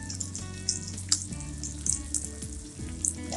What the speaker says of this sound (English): I'll fry this till the onions are fried well